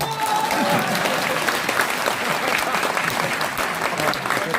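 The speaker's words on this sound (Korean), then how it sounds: "박수 안 칩니까?" Rally crowd in South Korea's Jeonnam region bursts into sustained, dense applause at a political protest rally, loud and steady throughout with a faint murmur of voices mixed in.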